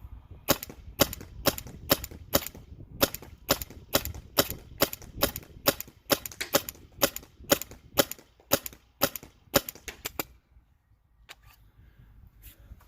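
A First Strike paintball marker running on an EMF100 tank fires a rapid string of sharp, loud pops in close succession. The rhythm is irregular, and the shots stop abruptly, leaving quiet with a few faint clicks.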